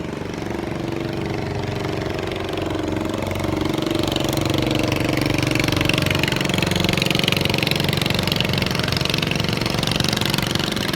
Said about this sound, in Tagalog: Manood na lang po tayo ng mga nagdadaan ng bangka.